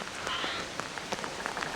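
Steady rain falls on a lake in Sulawesi, a dense close hiss of drops striking the water and nearby surfaces with scattered sharper individual splashes, alone with no voices.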